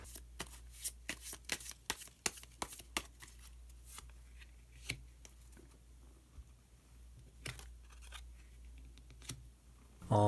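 Tarot cards being shuffled and drawn, with a rapid run of sharp riffling snaps early on that thins into scattered flicks and slides of card stock. The sound is close and fairly quiet, and no one talks over it.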